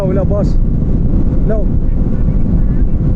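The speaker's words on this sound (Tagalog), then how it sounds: "Mahangin daw." Wind buffets a microphone outdoors on a street of old houses in Gapan, Nueva Ecija, producing a constant low, rough rumble that runs through the whole moment while people briefly speak over it.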